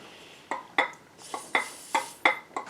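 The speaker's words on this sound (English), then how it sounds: "Now the piston's hitting the bottom and the pins are rocking." A Harley Sportster piston rocks on its pins and knocks against the bottom, giving seven light metallic clinks at an uneven rhythm. The clinks are close and fairly quiet, with nothing else heard between them.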